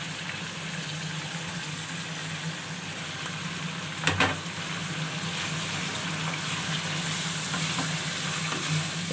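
Masala with tomatoes and yogurt frying in a pan for achar gosht, a steady close sizzle running throughout with one brief louder clatter near the middle, no voices.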